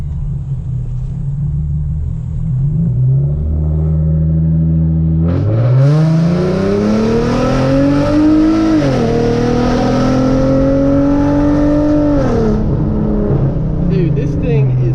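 A Hyundai Genesis Coupe 3.8 with straight-pipe headers idles with a deep rumble, then revs hard and holds a loud, raspy, rising exhaust roar before dropping back, recorded up close.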